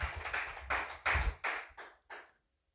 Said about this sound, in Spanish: Dele fuerte aplauso